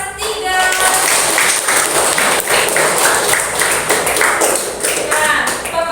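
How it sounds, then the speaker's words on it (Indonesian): A third-grade class in a religious-studies lesson gives a burst of steady, close clapping for about six seconds, with children's voices calling out over it. "Tepuk tangan untuk kelas 3."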